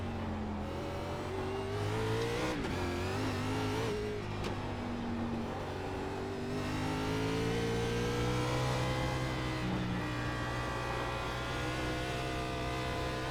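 An Xfinity race car engine on the Chicago Street Course holds throttle and climbs through gears, shifting and braking in a loud, continuous onboard whine and roar.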